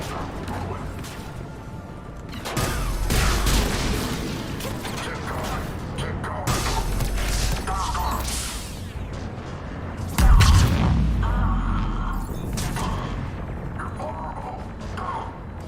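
Heavy booms of cannon fire in Mass Effect Legendary Edition, mixed with clanking mechanical noises and background voices, with one especially loud blast near the end.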